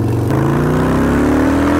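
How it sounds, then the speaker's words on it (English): A motorcycle engine drones steadily while riding, recorded up close by a body-worn camera, its pitch climbing smoothly as the bike speeds up before a short rustle at the end. "I clip it here, and I ride my motorcycle like this"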